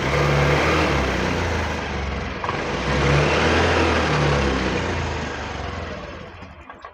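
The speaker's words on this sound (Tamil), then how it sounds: "வண்டியை ஸ்டார்ட் பண்ண ஸ்டார்ட் ஆயிடுச்சு." A Honda BS6 motorcycle engine runs steadily at close range, a loud continuous low hum with a slight rise in revs partway through before it eases off toward the end.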